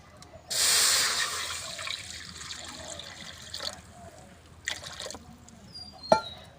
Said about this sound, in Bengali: কড়াতে দিয়ে দেবো জল